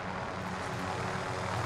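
A helicopter flies in the video game Warzone, its engine roar steady and dense, holding at a constant loud level throughout with no talk over it.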